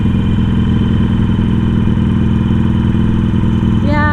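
A Harley-Davidson Sportster motorcycle engine drones loud and steady while riding, with a constant deep rumble and a brief rising note near the end.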